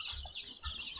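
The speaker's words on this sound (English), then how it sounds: "with very healthy chicks" Young chicks in a poultry brooder on a farm cluck and peep faintly in a short, soft burst with light background noise.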